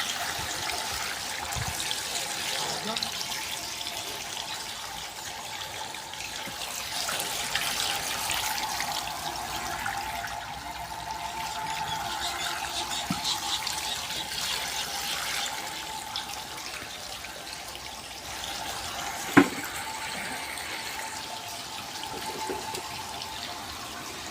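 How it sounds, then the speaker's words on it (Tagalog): A strong, steady stream of water from a water pump runs continuously with a hissing rush, a single sharp knock partway through, no talking. "ayan malakas na yung tubig saka maganda malinaw"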